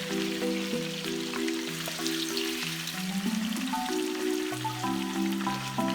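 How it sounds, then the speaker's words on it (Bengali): Fish sizzles steadily in hot oil with chopped onion in a home kitchen pan, a continuous soft crackle under fairly loud background music, with no talk. "তারপরেই আমরা মাছটাকে তেলের মধ্যে ভেজে নেব।"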